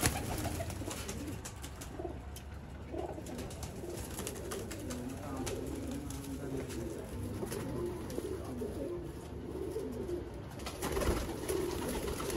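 Pigeons coo steadily in a loft, low soft rolling calls at a moderate distance over a constant background hum, with faint talk now and then.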